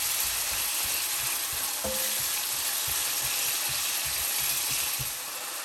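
Tomatoes fry in a pan for a Haitian breakfast, giving a constant dense sizzle throughout with a single brief clink partway through.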